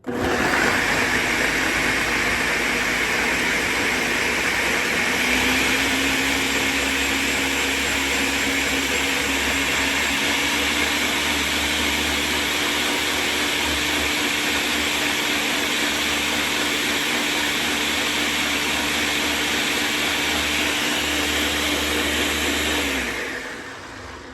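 A blender loudly purees jerk chicken marinade, its motor whining up to a steady, heavy drone that holds for about twenty seconds before cutting off, with no talking over it.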